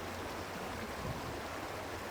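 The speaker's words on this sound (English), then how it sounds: "Baskin Creek." Baskin Creek flowing near a motel in Gatlinburg, Tennessee, a steady close rushing of water that holds even and unbroken throughout, with no voices.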